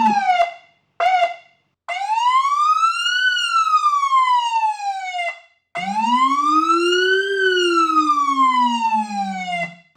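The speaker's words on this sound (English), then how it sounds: "And then, of course, we have your manual horn." Police Interceptor Utility siren run on its manual horn tone: two short blasts, then long rising-and-falling wails, loud and close with no talking.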